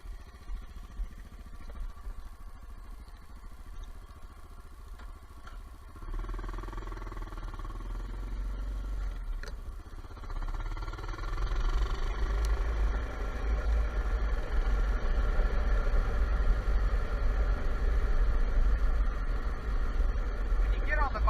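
A Honda XR650L motorcycle engine rumbles as the bike sets off, a low steady drone that grows louder and busier as it gets under way. Voices are heard over the engine.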